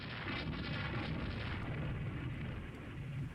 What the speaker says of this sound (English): that was a serious hit there on the side of our Velki